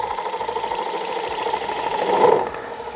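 Wood lathe running steadily while a bowl gouge cuts a woodturning bowl near its tenon, giving a close, continuous whirring hum that rises briefly and fades near the end.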